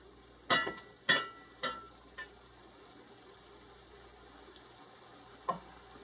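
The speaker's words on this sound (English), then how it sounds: "it does taste better if you go ahead and let this brown a little bit and get a little bit of that Maillard reaction" Ground beef browning in a pan for stroganoff: a few sharp, close spatula scrapes in quick succession, then a lone later one, over a faint background sizzle.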